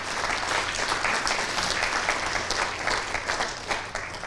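An audience at a live school performance at Loreto Normanhurst in Sydney claps steadily, a dense, sustained round of applause filling the whole stretch with no speech over it.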